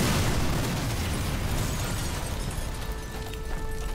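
A loud, sustained blast rumbles through the Sniper Elite 4 video game, broadband and thick from the start, then tails off into a long decaying roar with faint tonal ringing underneath.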